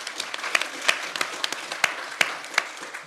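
A modest audience at a public talk on tariffs and Wisconsin claps for a guest, scattered individual hand claps popping over a soft bed of applause, fairly thin and steady rather than a roaring ovation.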